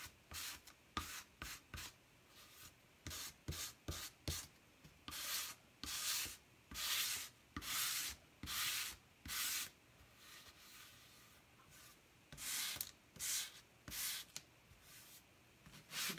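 Light hand sanding of a wooden light-up sign, a series of soft, close rasping strokes in a steady back-and-forth rhythm, growing longer and more even midway, with no talking.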